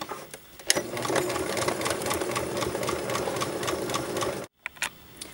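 A sewing machine runs a straight stitch closing the tie straps of bloomers, a steady close rattling whir for about four seconds that stops abruptly, followed by a few brief clicks.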